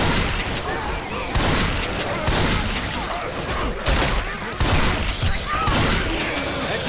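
Rapid gunfire from the Left 4 Dead 2 video game, dense bursts of shots in repeated volleys over a steady roar of game action, loud and close throughout with voices shouting in the mix.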